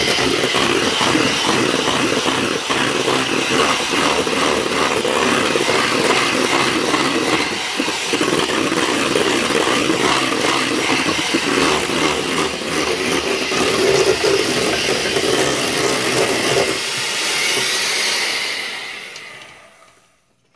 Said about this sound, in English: we're going to just whisk it out